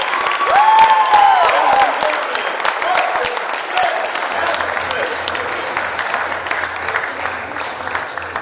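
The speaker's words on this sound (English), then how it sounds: "give her a big round of applause" A crowd at a pageant applauds loudly, with a whistle near the start, and the clapping gradually thins and fades.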